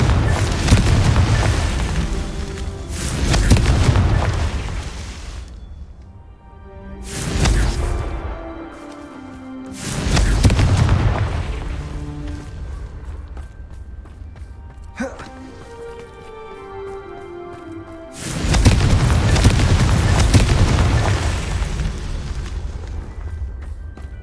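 Confringo fire spell blasts in the Hogwarts Legacy video game, several heavy booming explosions at irregular intervals with rumbling decays and quieter game sounds between them.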